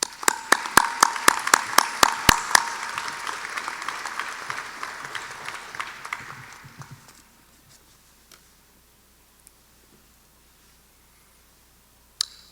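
An audience at a university opening convocation applauds to welcome Hal Smith, starting with strong rhythmic clapping that thins and fades out over several seconds before a few isolated claps.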